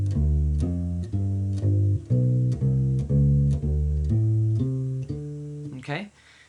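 A U-Bass plays a blues walk-up from the 1 chord to the 5 chord: about eight evenly spaced, deep plucked notes step upward in a steady rhythm, close and clear, with no talking, ending in a brief scrape.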